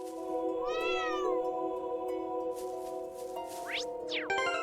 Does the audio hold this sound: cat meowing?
yes